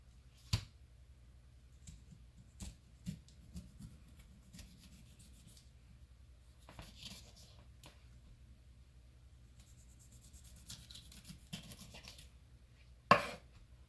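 A knife cutting through a pineapple, scattered soft scraping and rubbing strokes with a few sharper clicks, quiet and close, with a louder crunch near the end.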